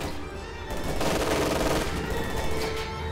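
Gunfire in the Company of Heroes 2 real-time strategy game, a dense, continuous crackle of battle shots and bursts that swells after the first second and keeps going without a break, with no talking.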